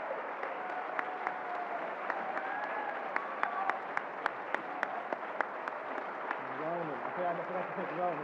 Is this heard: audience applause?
yes